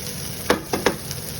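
Chopped onion fries in butter in a pan, a steady soft sizzle broken by three quick close scraping stirs.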